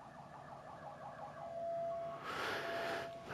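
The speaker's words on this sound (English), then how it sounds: "so the ambulance has arrived." A video game ambulance siren wails faintly at first, then swells louder in a wavering tone, with a steady hum underneath.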